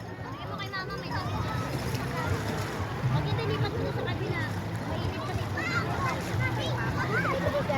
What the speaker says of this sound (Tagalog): Napakalakas din ng agos